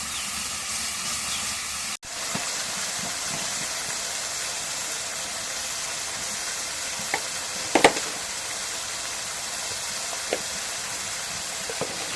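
Cumin, garlic and onion pastes fry in a pan with a steady, loud, close sizzle that runs throughout, cutting out briefly near the start, with a few sharp scrapes and clicks of stirring partway through; no one speaks.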